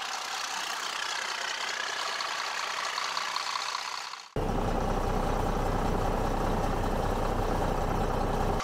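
Caterpillar D8 dozer diesel engine running after its pony motor start: a steady mid-range engine hum that jumps abruptly to a much louder, heavy close-up rumble halfway through.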